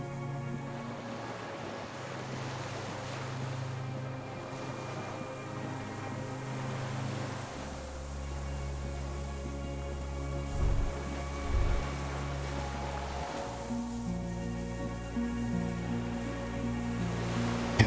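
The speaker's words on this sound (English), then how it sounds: "The distant sound of cargo ships. Signal horns echo on the water." Distant cargo ship signal horns drift across the water in the game Disco Elysium: low, sustained tones that swell and fade over a steady bed of wind and surf, with no voices.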